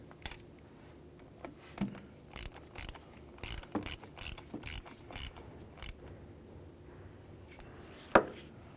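Ratcheting clicks come in several short bursts as bolts are snugged gently on the idle air control valve of a 1994-2004 Chevrolet S-10, close and fairly crisp with brief pauses between runs.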